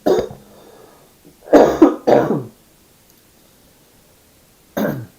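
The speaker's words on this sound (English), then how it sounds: "1 second while I cough." A man coughs and clears his throat in a few close, sharp bursts, then falls quiet, and one more short cough follows after a silent pause.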